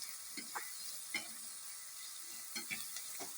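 Big onions frying in a pan for homestyle mutton kuzhambu, a steady broadband sizzle with a handful of soft stirring scrapes and clicks spread across it, close and moderately quiet, with no talking.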